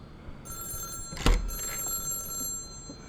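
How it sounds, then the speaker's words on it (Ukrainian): A telephone rings in the indie horror game Till Checkout Do Us Part, a bright electronic ring with a thump in the middle over quiet game ambience. "Дзвонить хтось."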